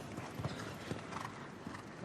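Horse hooves clip-clop across the sand of an indoor show jumping arena at the Paris Grand Prix Hermès CSI5 in the Grand Palais, a moderately loud, uneven run of hoof strikes over steady crowd and arena ambience.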